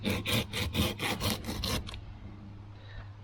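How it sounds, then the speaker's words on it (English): A handsaw cuts a sugar maple branch during a tree pruning climb, with about eight quick rhythmic rasping strokes up close, then the sawing stops and a faint quiet follows. "For now, start with this little guy and just do it with a handsaw."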